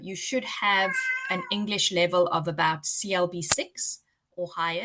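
A house cat meows a few times close by, with short rising cries that overlap and briefly follow a person speaking steadily during an information session.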